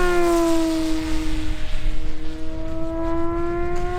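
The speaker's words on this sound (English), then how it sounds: "A park flyer at full throttle" A HobbyKing Yak 11 RC park flyer in Red Reno scheme screams overhead at full throttle, its electric motor a steady high whine with clear harmonics that shift slightly in pitch as it passes over the field.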